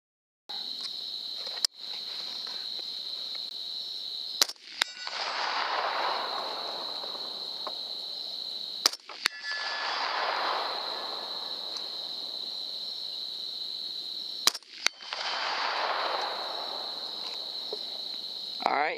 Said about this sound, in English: So we're going to take some shots and see what we can do.